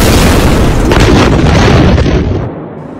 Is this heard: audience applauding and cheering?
no